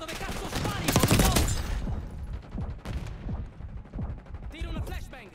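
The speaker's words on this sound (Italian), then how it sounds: "Guarda dove cazzo spari, Bobito!" Rapid gunfire and explosive bursts fill a Black Ops 6 video game match, loud and dense at first, then continuing as scattered shots and impacts under ongoing player chatter.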